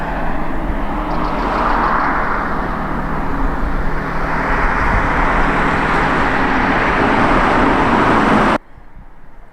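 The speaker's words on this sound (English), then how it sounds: "Somewhere down there is Alex driving the DB11" An Aston Martin DB11 passes below during flyby filming, a broad loud roar that swells twice and holds steady before cutting off abruptly near the end.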